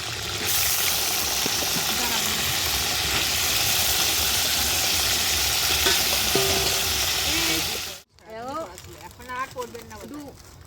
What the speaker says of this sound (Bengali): এবার শিমগুলো ভেজে নেবো